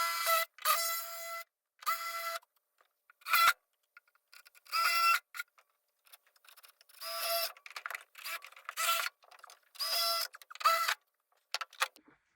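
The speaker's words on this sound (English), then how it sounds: "I'm going to go ahead and drill these holes." A power drill whirs in short bursts, boring holes in a car's metal floor, starting and stopping repeatedly, close up with brief silent gaps between runs.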